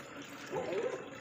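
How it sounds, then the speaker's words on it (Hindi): Water is poured by hand from a mug into garden plant pots, a brief splashing gush lasting under a second. "गमलों में पानी में हाथ से ही ऐसे देती हूँ मग्गे से"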